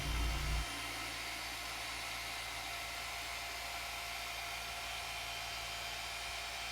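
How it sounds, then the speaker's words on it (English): A dual action polisher works car paint with a continuous, fairly steady electric whir and a low hum, after a brief louder burst at the start. "You'll also notice we switched from the rotary to a dual action polisher."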